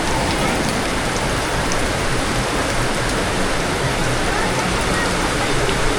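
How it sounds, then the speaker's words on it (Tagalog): Rain pours down in a dense, even hiss with scattered drops striking surfaces, steady and loud throughout the six seconds with no other sounds standing out. "umuulan pa rin pero araw naman siya"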